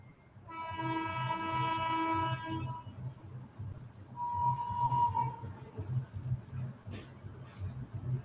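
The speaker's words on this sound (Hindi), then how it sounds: "सर ट्रेन घर के पास है।" A train passing near a house gives a long blaring horn blast, then a shorter second horn note over a continuous low rumble of rolling wheels, loud and close.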